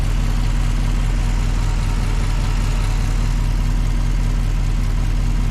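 A 1984 Jeep engine with single exhaust idles steadily and loudly up close, a constant low rumble with even pulsing and no talking.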